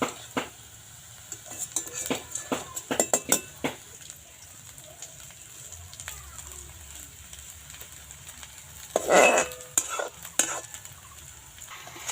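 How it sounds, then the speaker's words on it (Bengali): Semolina sitabhog sweets fry in hot oil with a soft, steady sizzle, broken by sharp clinks and scrapes of a utensil against the pan, and a louder burst of crackling partway through. "বন্ধুরা এটা তো ভাজতে বেশি একটা সময় লাগে না, খুব সহজেই হয়।"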